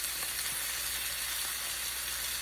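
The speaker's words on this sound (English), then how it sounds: "Beginning to get a nice little sizzle on it." Frozen chicken sizzling on a double burner grill, a constant bright crackling hiss close up with faint clinks of stirring or moving the pan.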